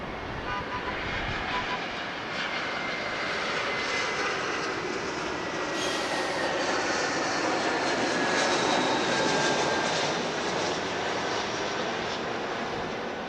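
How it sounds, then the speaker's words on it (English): A JetBlue jet airliner arrives at LAX, its engines producing a loud, sustained roar that holds steady and swells slightly as it passes, with no talk over it. "Let's swing around and see a JetBlue come in, shall we?"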